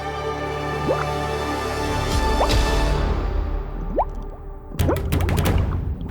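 Comic gurgling stomach sound effect in a royal court scene, a run of wet drips, plops and bubbly squelches repeating over a steady background drone, busiest toward the end.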